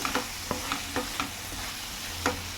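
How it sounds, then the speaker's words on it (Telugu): Tomatoes stirred in a hot frying pan, a steady sizzle beneath a run of soft spoon scrapes and taps at an irregular beat, close by with no voices. "ఇప్పుడు మనం దీంట్లో టమాటాస్ అనేది వేసేసుకుందాం"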